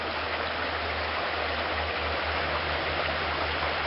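Creek water flowing steadily behind a cabin in the Idaho mountains on a morning, a close, constant broadband rush with no pauses and no voices.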